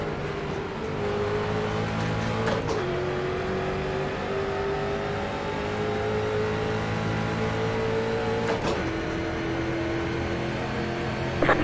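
C Class street stock race cars lapping Charlotte in the iRacing sim, a loud, steady engine drone that rises gradually in pitch, with two sharp breaks from gear shifts about six seconds apart.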